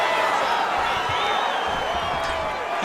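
In the video game UFC 5, a steady wash of crowd cheering and applause fills the arena, loud and continuous, with a commentator talking over it.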